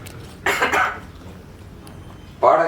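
A person at a film trailer launch and press meet gives a short, close, dry cough, followed by a pause of quiet room sound before speech begins.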